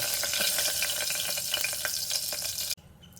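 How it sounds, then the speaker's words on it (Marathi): Asafoetida, bay leaves and stone flower sizzle loudly in hot mustard oil, a dense steady crackling fry with small pops that cuts off abruptly near the end, leaving faint residual sizzle. "आता ह्यामध्ये मी घालत आहे हिंग, तमालपत्र आणि दगडी फूल।"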